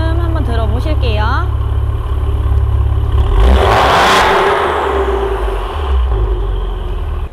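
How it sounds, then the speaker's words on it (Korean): Engine of a first-generation Maserati Ghibli 3.0 S Q4 revving through its exhaust, a loud close rumble that surges into a roaring rev midway and settles back toward idle, with a voice speaking at the start. "이제 이 차량 기블리 배기 소리 한번 들어보실게요"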